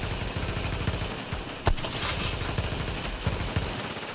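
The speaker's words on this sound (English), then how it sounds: "Someone shooting me from behind." Sustained rapid gunfire in Tom Clancy's The Division, a steady stream of close shots with a couple of sharper, louder cracks standing out, no talking.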